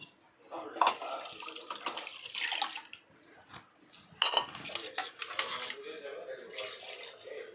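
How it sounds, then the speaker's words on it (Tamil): Water poured into a pot of sambar powder mixture in a home kitchen, splashing in bursts alongside utensil clinks, with a voice talking over it. "இப்போ தண்ணி ஒரு 2 கிளாஸ் சேர்த்துக்கிறேன் நான்."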